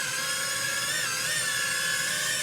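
Holy Stone HS450 beginner drone in flight, its small motors giving a steady high-pitched whine with whirring tones that rise slightly, continuous and fairly close throughout.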